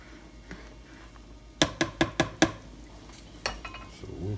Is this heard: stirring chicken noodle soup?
yes